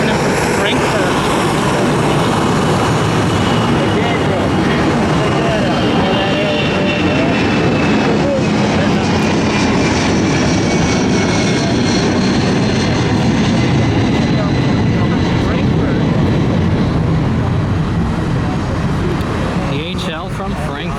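DHL cargo plane arriving from Frankfurt at Atlanta airport, a loud, continuous jet engine roar sustained throughout, with a person talking over it.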